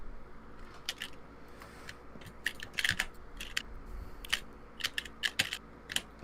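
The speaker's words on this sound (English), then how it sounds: "Do you have like a Macintosh keyboard or something?" Computer keyboard keys clack in quick irregular bursts, close and crisp, with short pauses between flurries of keystrokes and a faint low hum underneath, no speech.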